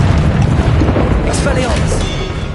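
Glacius ice spell cast in Hogwarts Legacy, a loud dense booming blast with rumbling low end that holds steady for a couple of seconds, with a spoken incantation mixed in.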